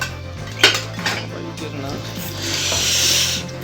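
Dishes, pots, pans and cutlery are washed in a home kitchen in the UK, with clinking metal and rubbing, scraping scrubs, a few sharper clatters and a rising hiss of running water near the end.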